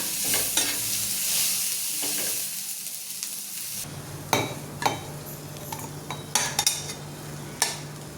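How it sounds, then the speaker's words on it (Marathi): Garlic, ginger and coriander being sautéed into a masala, a steady sizzle broken by sharp clinks and scrapes of a spoon stirring against the pan, close and fairly loud with no talking. "आपण थोडंसं लसूण आलं आणि कोथिंबीर पण थोडी परतून घ्यायची त्याच्यात"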